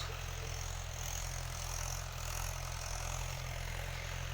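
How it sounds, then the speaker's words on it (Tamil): A tractor runs out in a field during sowing, a steady low engine drone with a constant hum, heard at a moderate distance under continuous broadband outdoor noise. "அங்கே டிராக்டர் ஓடுது."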